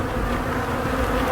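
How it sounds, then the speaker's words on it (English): Honeybees robbing a weak hive fill the box with a thick, steady buzzing drone heard up close and unbroken. "What's going on here is that bees from other hives have found this hive."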